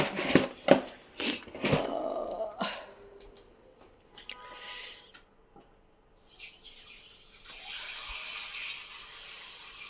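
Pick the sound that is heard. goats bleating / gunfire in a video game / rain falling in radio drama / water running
water running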